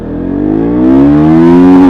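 A KTM RC 200 motorcycle accelerating hard through the gears, its engine note loud and close, a rising buzzing whine that climbs steadily in pitch with no talking over it.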